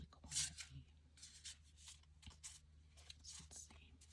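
Soft, close papery rustles and riffles of tarot cards being shuffled quietly, with a few faint whispers mixed in.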